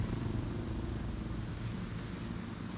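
Steady rain falls in the open-world game Watch Dogs Legion, a dense, even hiss with low rumble holding at constant loudness for the whole stretch, no talking over it.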